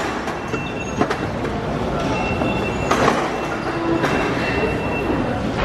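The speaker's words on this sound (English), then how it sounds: "Anyway, train is now here." A London Underground train pulls into the station with a loud rumbling roar, rattling carriages and faint wheel squeals, sustained and close.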